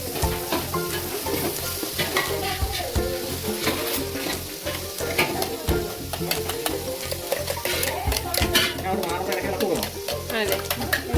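Onion paste frying with tomato, green chili and curry leaves, stirred steadily in a pan with a continuous sizzle and frequent scraping strokes close by, with no talk over it.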